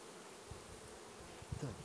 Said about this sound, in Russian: Вот тут пчела вышла.